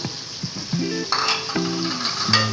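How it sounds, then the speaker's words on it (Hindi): Tomatoes and green chillies are tossed into a hot pan with browned ginger and garlic, a loud close sizzle with a spoon stirring and scraping against the pot, plus a few clinks. "ये अब हम इसमें डालते हैं टमाटर मिर्चें।"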